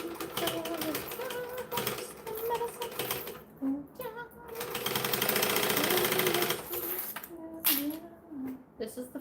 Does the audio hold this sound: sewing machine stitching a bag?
yes